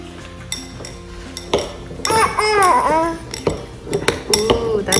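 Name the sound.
child stirring cookie frosting with spoon in bowl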